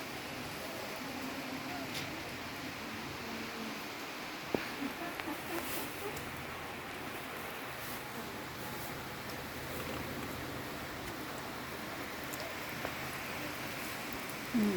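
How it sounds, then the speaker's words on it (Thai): Steady rain falls with a constant hiss and patter, a few louder knocks, and someone talking quietly under it. "ฝนตก แต่ไม่ ไม่เยอะ"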